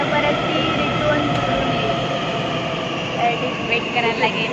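A metro train pulls into a station with a steady, loud rolling rumble and hum of the carriages that holds close and even throughout, rising slightly near the end.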